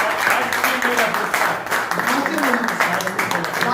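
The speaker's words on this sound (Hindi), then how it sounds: "जोरदार तालियां होनी चाहिए" Audience applause at an award ceremony honoring women, a continuous crowd clapping mixed with a voice speaking over it through the noise.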